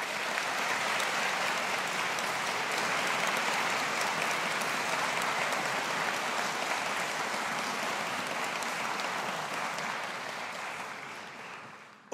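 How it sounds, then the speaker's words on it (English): Graduation ceremony crowd at a business school giving a long, steady round of applause, a broad even roar of many hands that holds for several seconds before slowly fading out. "applause. Thank you."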